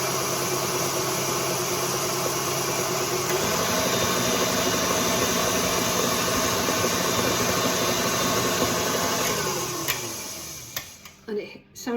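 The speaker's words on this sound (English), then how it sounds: "And I'll set the mixer going again" An electric mixer whisks sponge cake batter with a steady, continuous motor whir and rattle that holds for about ten seconds, then winds down and stops near the end.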